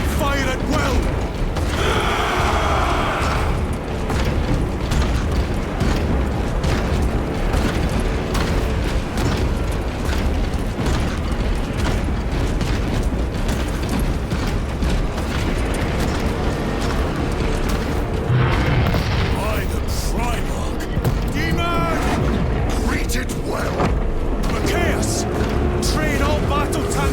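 Forces open fire in Warhammer 40k Space Marine 2, a continuous roar of guns, booms and mechanical clatter filling the whole stretch, with battle music and occasional shouted orders underneath.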